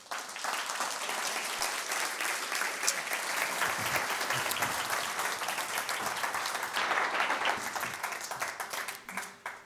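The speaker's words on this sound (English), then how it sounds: "a very, very warm round of applause" A large audience claps enthusiastically in a dense, sustained burst of applause that carries on for several seconds with no talking.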